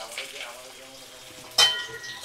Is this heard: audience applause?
no